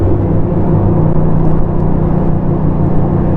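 A Cockwells Titian tender with 640 hp jet drives runs hard under throttle, giving a loud, dense, steady engine roar and rumble that holds throughout with no talk.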